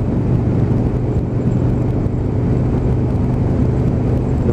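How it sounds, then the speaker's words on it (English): An Aprilia RSV1000 Mille V-twin motorcycle chugs along while being ridden, a continuous low engine drone mixed with steady wind rush, loud and close throughout without any revving peaks. "Big V-twin underneath me, just chugging away."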